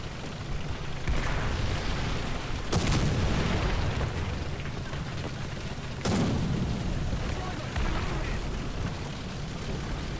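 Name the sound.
artillery strike called in, from the video game War Thunder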